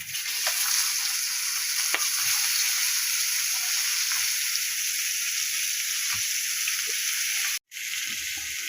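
Mustard seeds frying in oil in a wok after fish has been fried make a loud, steady hiss and sizzle that runs unbroken until a brief cut near the end, with no talking.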